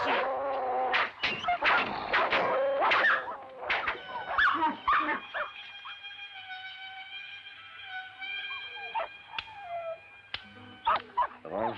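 Dogs in a Western film yip, whimper and bark in quick bursts, several animals overlapping at close range, with a drawn-out whining stretch in the middle before more short yelps.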